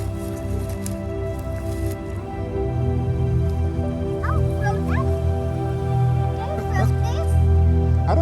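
Ducks call in several short bursts along a nature trail, rising over a steady low outdoor rumble while a child and an adult talk nearby.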